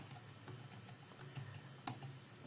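A command is typed on a computer keyboard in a quiet room: soft, fast key clicks at a faint level, with one sharper tap near the end.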